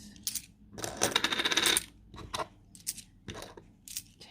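British pound coins dropped and counted by hand onto a surface, a close series of metallic clinks and jingles in irregular bursts.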